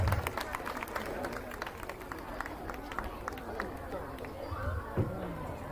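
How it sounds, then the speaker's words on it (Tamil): Sustained applause from an audience at a school annual day, rising for singing students; dense, steady clapping with crowd murmur, moderately loud and continuous throughout. "தங்களது இனிமையான குரலால் நம்மை மகிழ்வித்த நமது பள்ளி மாணவ மாணவியருக்கு பலத்த கரகோஷத்தை எழுப்புமாறு கேட்டுக்கொள்கிறேன்"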